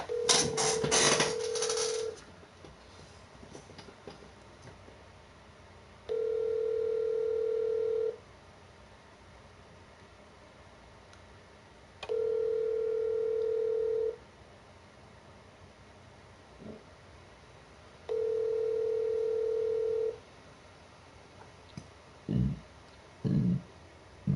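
During a phone call, a steady telephone tone sounds in three separate two-second bursts spaced several seconds apart. It starts with a short burst of noise, has low line hiss between the bursts, and ends with a few faint clicks.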